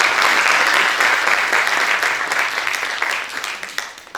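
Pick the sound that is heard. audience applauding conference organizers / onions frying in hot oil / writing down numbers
audience applauding conference organizers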